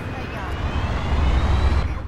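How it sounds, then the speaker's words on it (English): A military airplane in the Battlefield 2 video game drones as a steady, loud roar that swells slightly partway through, heard alone with no speech. "Okay, I've got the plane."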